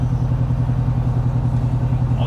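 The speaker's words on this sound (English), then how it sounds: "right now you can hear the truck's in 4-cylinder mode." A 2023 Ford F150 pickup engine idles in four-cylinder cylinder-deactivation mode, a steady, close, low throbbing rumble with an even pulse throughout.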